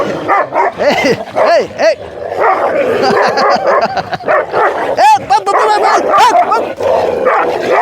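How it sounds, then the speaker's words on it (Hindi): Several dogs, including two large village dogs, bark, yip and snarl in a rough scuffle on a Himalayan hillside, with sharp overlapping barks and whimpers coming in bursts while people shout over the commotion. "लड़ाई हो गई खतरनाक। रुक जा रुक जा। अभी ऊपर गांव से 2 बड़े बड़े कुत्ते आए।"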